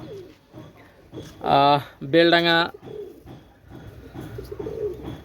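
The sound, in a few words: pigeons cooing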